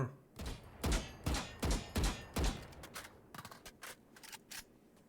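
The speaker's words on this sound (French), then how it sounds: "utilise le viseur pour tirer sur la cible" Sniper rifle shots fired at a target in the video game Valorant, about six heavy booming shots at steady intervals followed by lighter rapid clicks and thuds.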